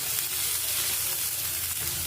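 Three cut onions with a pinch of salt frying in a pan at home, giving a steady, even sizzle and hiss throughout, fairly quiet and alone.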